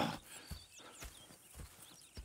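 Horses in the video game Red Dead Redemption 2, quiet hoof clip-clops and snorts recurring at roughly half-second intervals, faint and close, with no talking.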